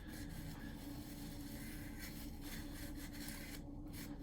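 Cloth or brush rubbing steadily over a T-72 tank scale model while wiping off weathering paint, a close, continuous soft scrubbing with no pauses and no voices.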